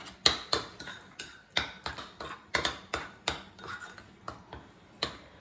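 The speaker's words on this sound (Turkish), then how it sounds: "Güzelce tüm malzemelerimi karıştırıyorum." A spoon clinks sharply against a bowl while avocado and labneh dip ingredients are stirred, a quick irregular series of close, bright taps and scrapes at moderate volume.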